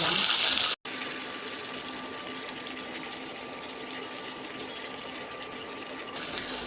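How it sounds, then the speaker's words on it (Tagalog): Coconut milk pours into adobo cooking in a pot, a steady liquid rush and gush that runs continuously after a brief break near the start. "So, lagyan ko sa ng gata para maiba naman ang aming"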